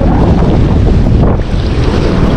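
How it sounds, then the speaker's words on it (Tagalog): Strong wind buffets the microphone in a continuous, loud roar at a shallow-water fishing spot, with churning water and waves mixed into the rush. "Mahangin na po dito."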